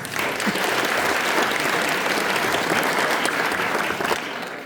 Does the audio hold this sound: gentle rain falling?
no